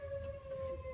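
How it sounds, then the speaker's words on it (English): A tornado siren wails in Clive during high winds, a single steady distant tone held throughout, faint against low wind rumble. "The tornado sirens are going off in Clive."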